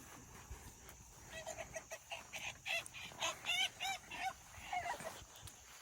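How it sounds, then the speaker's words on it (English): A flock of turkeys calls in a busy run of gobbling, warbling notes, rising in intensity over steady background hiss. "Look at our big, beautiful turkeys."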